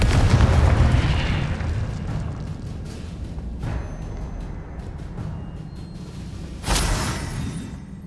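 Confringo fire-blast spells explode in Hogwarts Legacy: a loud rumbling boom opens and slowly decays into a low roar, then a second sharp blast bursts near the end.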